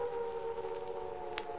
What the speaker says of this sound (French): Les sirènes hurlent sans fin